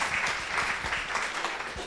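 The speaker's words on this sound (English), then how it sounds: "Round of applause for our incredible pitchies." Brief applause from the audience at a college pitch competition as the presenters are welcomed, a short burst of many hands clapping steadily.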